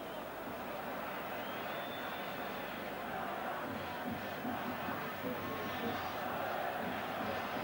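A noisy stadium crowd at the 1984 European Cup Final between Liverpool and AS Roma gives off a dense, continuous roar of babble and shouts, steady and fairly loud from start to finish.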